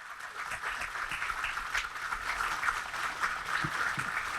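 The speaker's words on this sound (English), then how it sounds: "Let's give a huge round of applause, everybody." An audience applauds after a session on new labour codes, with steady, moderately faint clapping spread evenly across the room and a few low voices underneath.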